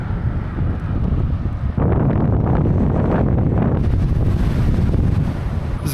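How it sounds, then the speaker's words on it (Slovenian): Wind buffets a camera mounted on a bicycle during a sunny summer ride in Austria, a steady loud rushing roar that swells midway and fills the whole stretch with no voices. "ker kar dobro piha."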